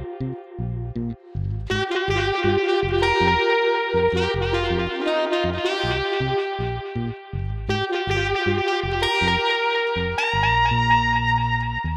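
A musical part runs through the Softube Tape Echoes delay effect set to eighth note triplets with a low cut, its repeating echoes spreading into a busy, continuous texture, loud and with no voices.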